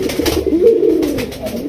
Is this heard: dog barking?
no